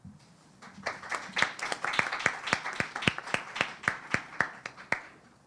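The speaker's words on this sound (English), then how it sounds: "Now let's give them all one big round of applause." Audience applause at a debate competition's grand finals, a room of hands clapping in a sharp, fairly even rhythm that starts light and quickly builds to a loud, sustained ovation with no speech.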